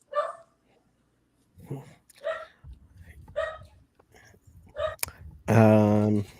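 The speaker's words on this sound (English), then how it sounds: "You hear the dog." A dog gives a loud, sharp bark or yelp near the end, close by, after a stretch of faint murmuring sounds.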